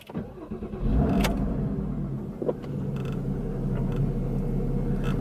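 A Porsche Cayman S 981 flat-six starting up, a brief cranking whir followed by the engine catching with a loud rev, then settling into a steady, throaty idle nearby.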